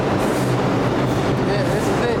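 A Brooklyn subway train rumbles loudly and steadily up close, with a continuous low roar and faint metallic squeals layered over the noise.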